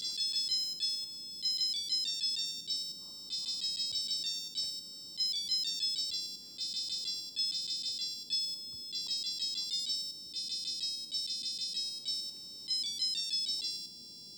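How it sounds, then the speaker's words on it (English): A Casio Melody 30 alarm plays the La Cucaracha melody as a thin, bright electronic beeping tune that loops its phrases steadily and quietly, with no voices. "That is the Thursday Mexican folk song, La Cucaracha."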